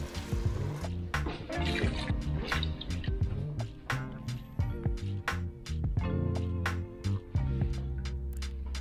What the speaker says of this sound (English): and then add a liter of water